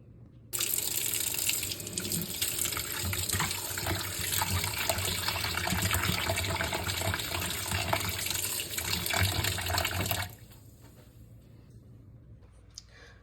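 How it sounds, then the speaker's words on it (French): Tap water runs steadily into a sink for about ten seconds while rinsing chicken wings, a loud continuous splashing rush, then stops abruptly, leaving quiet room tone. "je vais juste rincer le poulet"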